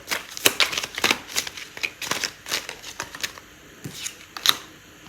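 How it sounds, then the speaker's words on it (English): A deck of tarot cards is shuffled with quick, crisp riffling bursts and soft slaps, close and fairly loud, before a single card is pulled from the deck. "I'm going to pull out a card for timing."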